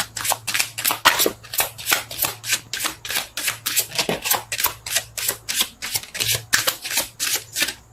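Tarot cards being shuffled, a steady run of crisp riffling flicks repeating roughly every third of a second, close and clear, with a faint low hum underneath.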